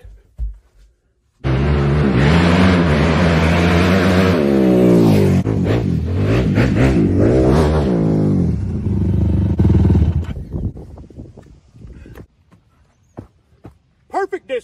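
Yamaha YFZ450R ATV engine runs loud and close, its pitch rising and falling as it revs for several seconds before cutting off, followed by quieter movement and clatter.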